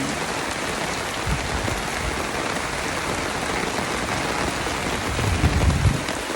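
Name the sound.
rain falling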